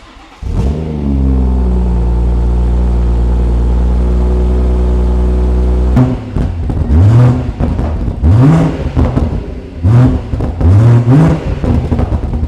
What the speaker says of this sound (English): the main event in my opinion is the M Performance exhaust, so I'm going to show you how that sounds now